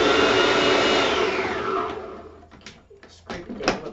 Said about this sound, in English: Now I'm going to process it because if I overload it, it is going to have chunks of potato.